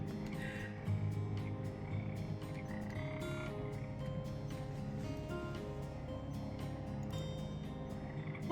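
A frog in the video game Teach a Man to Frog croaks steadily over a droning game soundtrack, with a continuous low rumble and repeated short croaks at moderate loudness and no talking.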